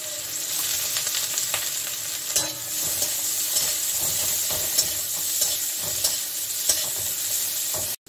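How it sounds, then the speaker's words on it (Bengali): Onions fry in hot white oil with a loud, continuous sizzle and hiss, broken by occasional stirring clicks, then cut off abruptly at the end. "এখানে আমি সাদা তেল দিচ্ছি। এখানে দিয়ে দিচ্ছি আমি পেঁয়াজ।"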